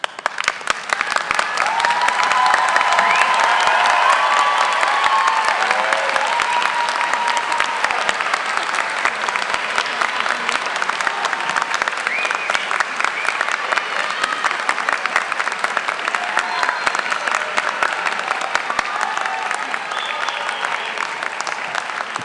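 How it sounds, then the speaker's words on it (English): Graduates at a university commencement ceremony applaud their families and friends in a loud, sustained rush of clapping from a large crowd, dense and even throughout with scattered whoops. "that was the most rowdy applause I've ever heard"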